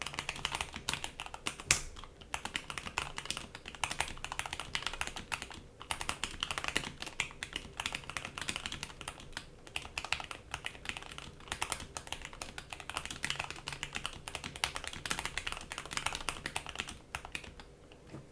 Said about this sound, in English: my mechanical keyboard is up now